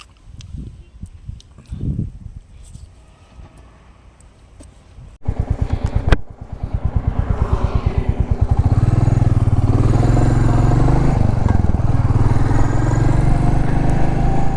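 Royal Enfield Meteor 350 motorcycle starting up and pulling away: quiet rustling and footsteps, then the single-cylinder engine catches with a sharp thump, idles in rapid pulses and builds into a loud, steady riding roar close by.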